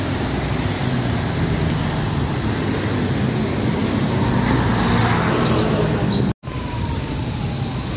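Road traffic by the MacArthur Bridge over the Pasig River: a dense, steady roar of cars, buses and trucks passing close by, loud and continuous, broken only by a brief cut near the end.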